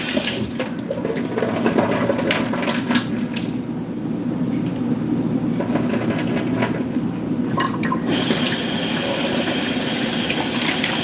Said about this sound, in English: I'm going to put some more water in this ice tray